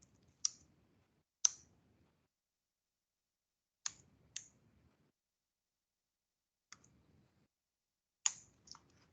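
Typing a short ls -l command on a computer keyboard, with about nine sharp isolated key clicks spaced unevenly across the span, close and crisp against near silence.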